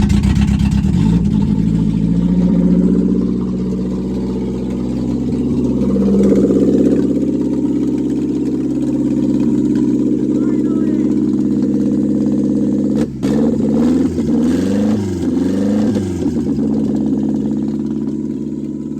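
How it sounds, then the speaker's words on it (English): A car engine running loud and steady just after a hard start on a car with crank position sensor and timing trouble, holding a rough idle with a brief dip and wavering revs near the end, no talk. "As you can hear, very loud. But it started."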